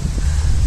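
Gusty wind on a sunny, windy day buffets the microphone outdoors in a brief, steady low rumble, with no voices.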